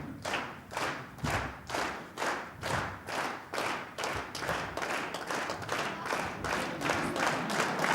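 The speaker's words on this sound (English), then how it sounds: "Come on, clap." Dance congress audience clapping along in unison, steady rhythmic claps about twice a second that grow fuller and more sustained toward the end, with faint stomping thuds underneath.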